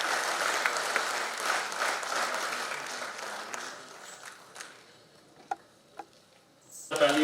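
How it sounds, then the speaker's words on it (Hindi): A crowd at the closing ceremony of National Road Safety Month, attended by Lt Governor Manoj Sinha, claps steadily for about four seconds. The clapping then thins to a few scattered, isolated claps before a louder burst at the end. "तालियों के बीच"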